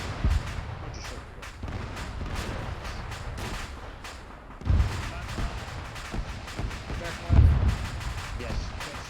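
Rocket launchers firing in a video game, several heavy booming launches spaced seconds apart amid a crackle of scattered gunfire, with voices talking throughout.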